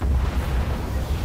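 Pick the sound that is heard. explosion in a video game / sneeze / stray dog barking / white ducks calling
explosion in a video game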